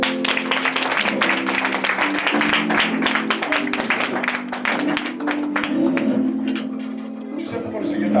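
A church congregation applauds with dense, continuous clapping, joined by a sustained musical drone and crowd noise, while a voice carries on over it.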